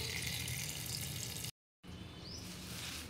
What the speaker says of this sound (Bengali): তো শাকটাকে আমি এরকম 2-3 বার করে ধুয়ে নেব।